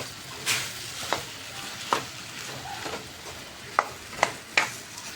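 Gujarati suki bhaji stirred and fried in a pan, the spatula scraping in several sharp separate strokes over a soft steady sizzle, close and moderately loud with no talking.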